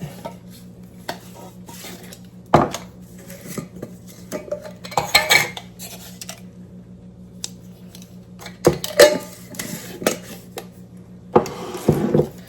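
A spoon scrapes and clinks in a small bowl while flour, baking soda and salt are mixed together. The strokes come as irregular bursts of knocks and taps, close and fairly loud, with no talking over them.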